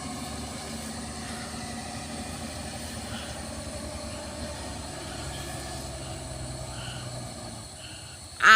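Mitsubishi L300 pickup truck engine running steadily under throttle, a continuous low drone at near, even loudness for several seconds with no talk, ending in a brief louder burst.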